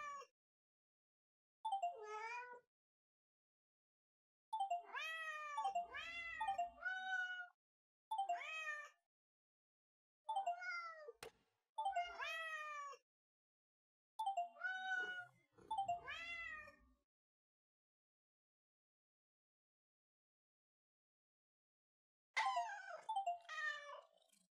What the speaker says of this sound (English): Oh, hang on there, silly kitten.